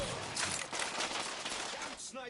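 Sniper and rifle fire in The Order: 1886, a busy clatter of gunshots with shouting voices mixed in, fairly faint overall and steady throughout.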